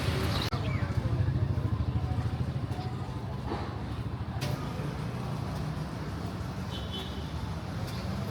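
Steady street traffic in the small town of Bukoba, Tanzania, with a continuous low rumble of passing cars and engines, fairly loud and close, with no talk.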